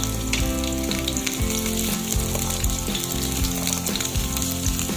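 Garlic sautéing in a pan as the start of a squash and string bean coconut stew, a steady, loud hissing sizzle close up, with a low repeating tonal hum underneath and no voices.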